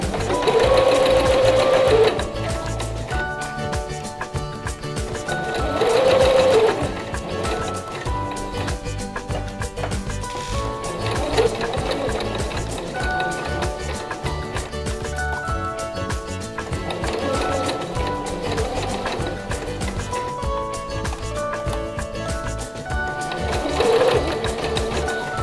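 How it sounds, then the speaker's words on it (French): A sewing machine stitches gathers with backstitches, running in a steady close mechanical whir punctuated by brief slowdowns and restarts over a sustained stretch. "Cette fois, il faut commencer votre couture par quelques points en marche arrière."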